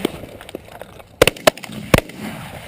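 A shotgun fires at geese on a goose hunt in a field, with several sharp, loud reports in quick succession over quiet outdoor background.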